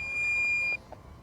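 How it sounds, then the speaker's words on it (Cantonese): A DJI Neo 2 remote controller sounds its critical low battery alarm: one steady, piercing electronic tone held for under a second, then cut off, leaving faint background hiss. "嚴重低電量警報。"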